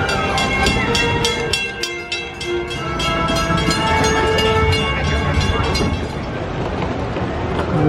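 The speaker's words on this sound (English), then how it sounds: "How about we take a spin on the railroad?" The Magic Kingdom railroad steam train ride rolls along, with loud close rhythmic chuffing and clattering wheels plus a sustained whistle tone, carrying on steadily without speech.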